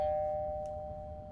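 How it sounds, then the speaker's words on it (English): A doorbell chimes once, a steady sustained electronic tone ringing clearly over a low background hum, with no talking. "That is a doorbell."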